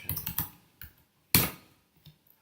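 Someone types on a computer keyboard, entering code: a few quick clicking keystrokes, then a single sharper, louder key strike and faint trailing taps, close by in a quiet room.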